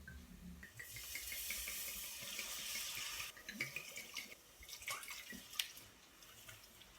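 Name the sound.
dry white wine being poured into a cooking pan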